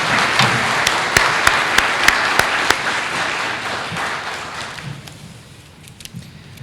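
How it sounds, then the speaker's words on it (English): Audience applause at a Hometown Heroes community recognition event, a dense crowd of clapping with a few louder nearby claps, gradually thinning out and fading toward the end. "let's give everybody a round of applause"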